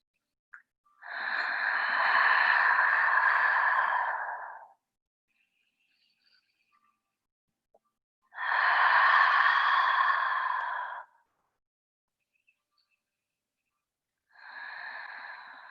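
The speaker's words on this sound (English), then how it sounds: "we'll take a few deep breaths here to settle in" Slow, deep breathing during a yoga practice: three long, close breaths, each lasting a few seconds, separated by quiet pauses, with the last cut short.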